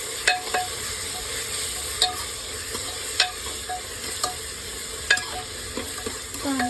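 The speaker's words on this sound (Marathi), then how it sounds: "त्यात मी तमालपत्र, मिरे, लवंग आणि दालचिनी टाकत आहे आणि ते मिक्स करून घ्यायचं आहे" Bay leaf, black pepper, cloves and cinnamon frying in oil in a pan, giving a steady close sizzle, with sharp spoon clicks against the pan at irregular intervals as the spices are stirred.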